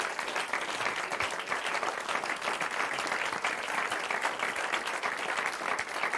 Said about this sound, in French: j'aimerais que vos applaudissements aillent aussi à mon ami François Rollin, qui a coécrit le spectacle